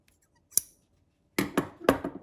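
Scissors snipping loose threads from a freshly opened buttonhole, one faint snip followed by a quick run of three sharp, close cuts.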